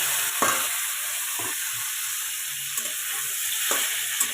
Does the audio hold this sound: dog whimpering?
no